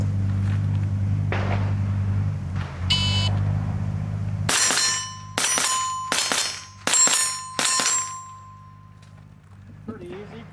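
.22 AR22 rifle shots strike steel plates under 20 yards away, a rapid run of sharp cracks each followed by a bright ringing clang, preceded by a few quieter taps and ending in a brief lull.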